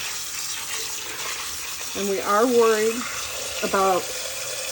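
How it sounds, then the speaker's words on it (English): Water is poured onto granite Lake Superior rocks, giving a soft continuous splashing hiss while a person talks over it. "I'm gonna get some water on it."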